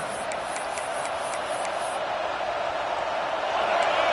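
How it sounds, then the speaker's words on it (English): Stadium crowd noise from the college football video game NCAA 26 on a third down, a steady wide roar that swells louder toward the end, with faint ticking near the start. "Decibels rising as the crowd gets behind this defense on 3rd down."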